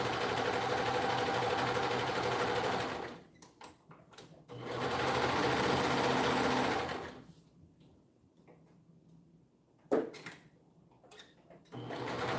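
A sewing machine stitching fabric in rapid steady bursts, two long runs separated by pauses with small handling clicks and knocks.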